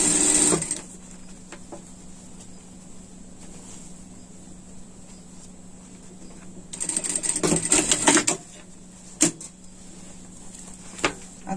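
A sewing machine topstitches a pet sling bag in short, close, whirring runs: one at the start, a longer stretch near the end and a brief final burst, with quiet between.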